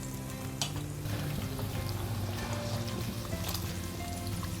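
Chicken wings deep frying in plenty of oil over a very low flame, a dense, steady bubbling sizzle that stays close and even throughout without any voices.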